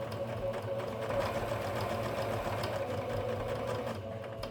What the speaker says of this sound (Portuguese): Se você não conseguir costurar com a velocidade da máquina, vai movimentando manualmente o volante.